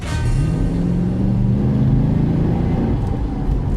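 A V8 all-wheel-drive Dodge Charger engine runs steadily with a deep, throaty rumble that swells slightly as it revs, loud and close, with no talking.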